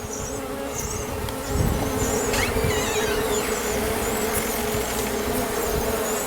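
Honey bees buzz steadily around an open hive during an inspection and queen marking, a dense continuous drone with individual bees whining past close by; a slight swell in loudness partway through.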